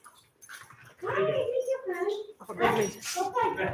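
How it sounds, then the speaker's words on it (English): At an indoor puppy socialization class, a young dog gives a few whimpers and high yips mixed with sharp barks, close and fairly loud, while people talk over them. "So when it gets a little barky, it just starts to rile the other dogs up."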